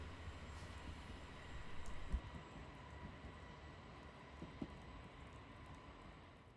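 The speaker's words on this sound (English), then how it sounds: "This is the local train back on its way towards Tottori again." A local train rumbles steadily nearby as it passes Higashihama Station in Japan, a low continuous drone with a faint hum and occasional small clanks as it rolls through.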